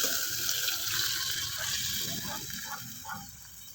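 Dry mung beans poured into a cooking pot for homemade sautéed mung bean stew, a steady rushing, pattering stream that runs continuously and close, thinning slightly toward the end.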